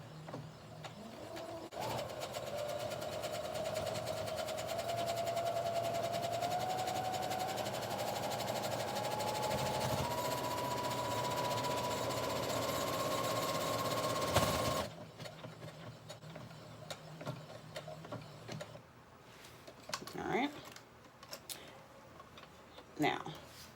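A sewing machine stitches fabric in a continuous fast run of ticking for about fifteen seconds, its motor pitch rising slightly. Then it stops, leaving quieter handling and a few soft clicks.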